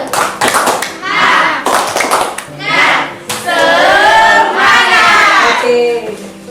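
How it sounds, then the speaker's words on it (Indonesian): A class clapping hands together in a school lesson, in repeated bursts of rhythmic patterned claps separated by brief pauses, loud and close, with children's voices calling out between and over the claps. "Tepuk tangan semangat."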